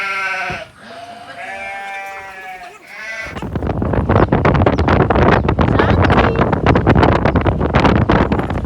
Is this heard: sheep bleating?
yes